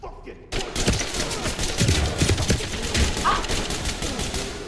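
Shotgun fire erupts in the tactical shooter game Ready or Not, a loud, dense burst of gunfire right after a short silence that keeps booming and rattling with little pause.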